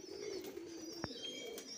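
Pigeons cooing softly, a low wavering coo running under faint background noise with a small click partway through, quiet and fairly close.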